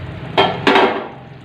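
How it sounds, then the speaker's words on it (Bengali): A utensil scrapes and clanks twice against a cooking pot as mutton is sautéed and stirred with onions and spice paste, two short distinct bursts close by over a low kitchen background. "আমি এই যে মাটনটা কষতে দিয়েছি"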